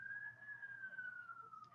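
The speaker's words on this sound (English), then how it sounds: "there's a siren" A siren passes outside, heard faintly as a single long wailing tone that slowly rises and falls in pitch, distant and quiet beneath a soft room hum.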